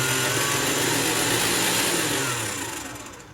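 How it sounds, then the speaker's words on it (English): A stand mixer with a dough hook churns flour and salt, giving a steady motor whir and grinding hum that runs close and unbroken, then eases slightly toward the end, with no voices. "put the flour in my stand mixer with the dough hook on it and the salt. And I'm just going to turn on and let it mix around"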